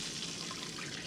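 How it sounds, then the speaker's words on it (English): Two cups of water poured into a pot for basmati rice, heard as a brief, steady, close splashing gush of running liquid. "This is 2 cups water. 2 cups because of the 2 cups basmati."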